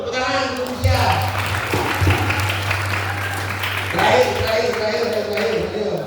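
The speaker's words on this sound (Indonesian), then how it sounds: "tepuk tangan untuk Indonesia" An audience breaks into applause for Indonesia at a Sunday morning gathering, a loud sustained wash of many hands clapping over a low steady hum, with voices talking over it and a second swell near the end.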